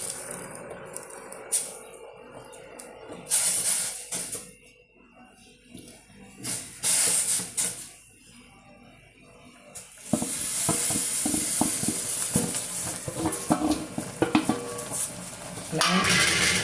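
Pathiri batter dropped into hot oil sizzles and crackles steadily, with a bright, continuous frying hiss building loudly in the second half after quieter stirring and clinking earlier.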